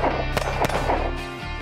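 Pistol shots from a Smith & Wesson M&P fitted with a Timney Alpha competition trigger, two sharp close reports in quick succession followed by a fading ring.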